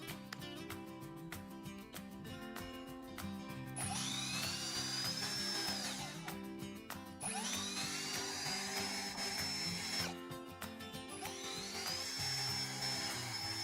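Ryobi R18DDBL brushless cordless screwdriver driving 3.5x20 mm screws at minimum torque, three separate bursts of motor whine rising in pitch as each screw seats, close and loud with steady hum between.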